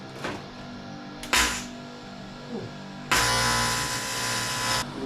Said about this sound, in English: Just going to start with some tacks. Then when I get myself comfortable in the right spot, I'll weld properly.